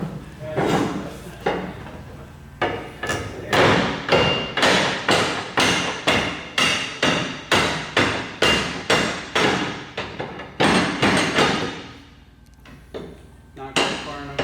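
Steady, heavy hammer blows from a winch bar or hammer striking metal while opening a Conestoga trailer, in a regular rhythm, about two per second, loud and close, with a pause and a few final knocks.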